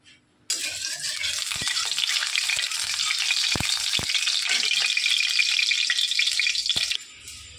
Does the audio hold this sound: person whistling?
no